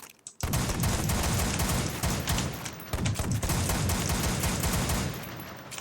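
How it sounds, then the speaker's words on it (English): Shotguns firing in Minecraft's Flan's Mod Apocalypse: a loud, dense barrage of overlapping blasts that starts abruptly and continues without pause for several seconds. "These shotguns are wrecking me."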